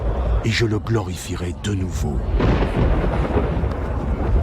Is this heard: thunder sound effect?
yes